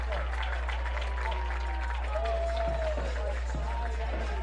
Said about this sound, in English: I don't think he can hear because of the crowd. And that sideline is very loud over there.